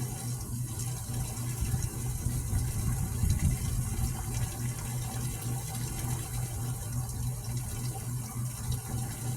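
Water pours steadily into bottles set beside staked tomato plants in a garden, a continuous close rushing gush that lasts the whole stretch with no one talking.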